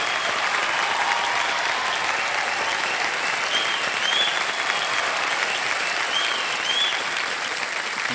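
Studio audience on KBC (Kaun Banega Crorepati) giving a standing ovation, dense steady applause filling the hall for the whole stretch without any talk over it.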